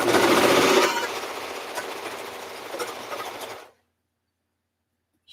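A sewing machine stitches a quilted hand bag, a loud fast steady whirring drone up close that slows a little after the first second and stops abruptly at about three and a half seconds, followed by silence.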